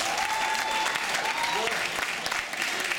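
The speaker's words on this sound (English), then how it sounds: "Please give a round of applause" Brief burst of audience applause at a school board candidates forum, full steady clapping from the room for a few seconds with faint voices mixed in.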